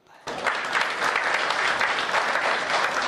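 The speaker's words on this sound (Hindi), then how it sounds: "ये वही ताली बजा रहा है" Loud, sustained audience applause at a comedic Hindi poetry recital, breaking in sharply after a brief quiet start and holding steady as dense clapping from a large crowd.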